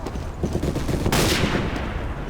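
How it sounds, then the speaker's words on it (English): Video game grenade launcher fire comes as a dense, loud burst of gunfire and explosive blasts, with a sharp broadband boom near the middle of a continuous roar of combat. "he's shooting grenades"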